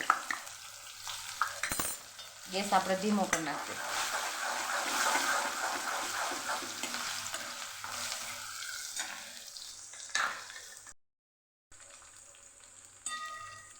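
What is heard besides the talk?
ginger and chillies sautéing in oil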